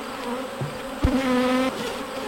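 Honeybees in an opened hive hum in a steady, dense drone close by, with a brief sharper buzz rising over the swarm partway through.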